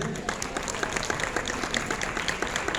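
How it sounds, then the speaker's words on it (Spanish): Steady, dense applause from a panel discussion audience, a continuous crowd of hands clapping at moderate distance throughout. "Un aplauso, por favor, muy fuerte."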